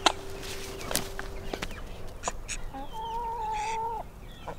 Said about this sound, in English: these are our chickens, our ducks.